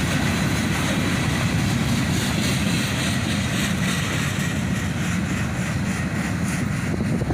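A CSX freight train rolls past with loaded scrap gondolas at the rear, a steady dense rumble and rattle of wheels and cars, continuous and fairly close, with no talking.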